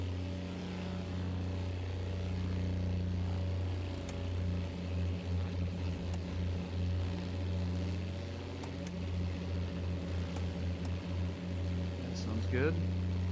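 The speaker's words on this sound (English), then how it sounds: "I'm going to do just a quick run up just to get a sense for the sound." Twin-engine piston aircraft running up in the X-Plane 11 flight simulator, a steady droning engine hum with a pulsing beat that holds throughout, while a voice talks over it.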